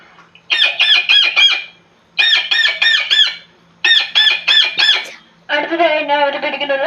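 A voice mimics a parrot with three quick rapid bursts of sharp, chattering squawks, each group of four to five calls, followed by a longer warbling squawk, close and loud.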